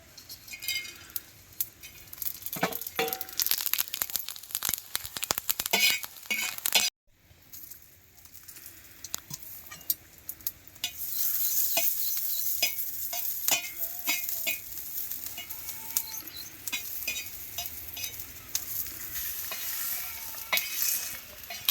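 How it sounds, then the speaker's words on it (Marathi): Coriander seeds and spices roasting dry in a pan, with steady crackling and sharp scraping stirs, a short silent break, then a brighter continuous sizzle that runs to the end. "आता आपल्या धने भाजले त्याच्यामध्ये गरम मसाला टाकून घेऊ"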